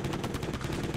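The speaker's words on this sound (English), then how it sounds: "I got a machine gun." Rapid machine-gun fire in a video game comes in a quick, loud burst of closely spaced shots that fills the whole moment, with no talk over it.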